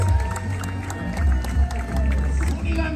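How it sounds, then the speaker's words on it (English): A crowd at an outdoor car show in Laredo, Texas claps and cheers for a 2011 GMC. The applause and scattered whoops come steadily under a loud public-address voice. "One more time, a round of applause on behalf of Estos Vatos from Victor Garcia, the 2011 GMC."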